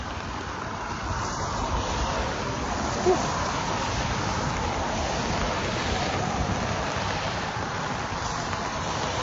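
Steady hiss of rain falling on forest foliage, a dense even patter with no breaks, heard close around.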